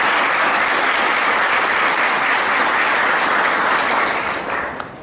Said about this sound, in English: I request all children to give a round of applause to your teachers.